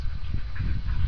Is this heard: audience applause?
no